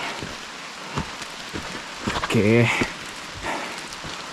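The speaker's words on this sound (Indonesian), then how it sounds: "Hujan." Rain falls on a mountain trail on Mount Kerinci in Sumatra, a steady hiss of drops throughout, while a voice speaks briefly over it.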